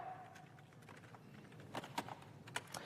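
Keystrokes on a QWERTY computer keyboard during a programming lecture, a quiet run of soft irregular taps with a few sharper clicks, fairly close under a faint room hum.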